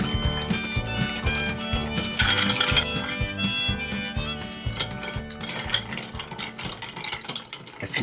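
A martini of gin and ice is stirred with a spoon, and the ice rattles and clinks in a quick repeating rhythm against the glass, close and fairly loud, with no talk.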